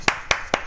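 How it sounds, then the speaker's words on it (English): Three sharp hand claps spaced evenly apart, close and crisp, with no voices. "we're giving you a round of applause"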